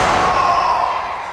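A wrestler is body slammed onto the ring canvas at an NECW independent wrestling event. One loud, dull slam lands over a steady wash of crowd noise in the arena.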